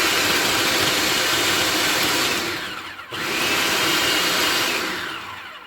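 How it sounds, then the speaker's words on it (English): A kitchen appliance blends butter into flour for buttermilk biscuits, a loud, steady whirring drone running throughout with a brief dip near the middle before resuming at full strength. "next you're going to just blend everything until the butter is about pea-sized and it's evenly dispersed throughout the flour"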